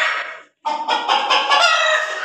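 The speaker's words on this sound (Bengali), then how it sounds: "এটা হচ্ছে আমার পাহাড়ি মুরগির কালেকশন, পাহাড়ি দেশি মুরগি।" Hill deshi chickens on a backyard poultry farm cluck loudly and close, a first burst cut by a brief gap, then a longer run of repeated throaty calls.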